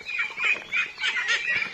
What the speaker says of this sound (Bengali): এই যে একটা হলো মুরগি,